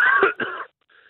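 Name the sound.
cough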